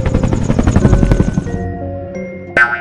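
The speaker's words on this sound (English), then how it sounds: "H is for helicopter." A helicopter's rotor chops in rapid rhythmic pulses, loud and close, then fades into a lingering hum before a brief bright chime.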